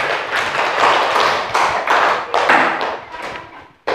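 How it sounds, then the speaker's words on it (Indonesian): Pupils clap in a classroom, a loose series of rhythmic bursts of hand claps with some thuds, close by, fading out near the end before a final sharp knock. "Beri tepuk tangan."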